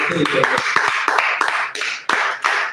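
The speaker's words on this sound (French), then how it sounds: "Applaudissez d'abord le Seigneur" A church congregation claps in a loose, rhythmic pattern of distinct sharp beats, fairly close, with voices and singing running underneath the clapping throughout.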